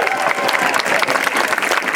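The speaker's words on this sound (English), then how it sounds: "Let's give them all a round of applause." Crowd clapping at an outdoor save-the-whales rally: dense, steady applause from many hands, fairly close and continuous throughout.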